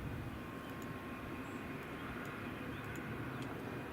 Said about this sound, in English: 737-800 from Bristol that's just coming in now. Be landing in just a second.